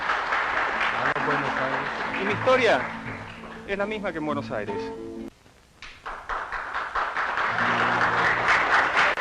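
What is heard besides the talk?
audience applause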